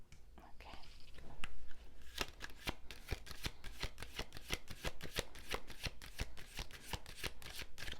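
A tarot deck is shuffled by hand close up, with a rapid run of crisp card snaps and flicks in a steady, uneven rhythm. A faint, whispery voice sits underneath.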